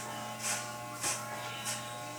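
Electric hair clippers buzz steadily while cutting a fade, with three brief swells in pitch and loudness as the blade passes through the hair, close up with no talking.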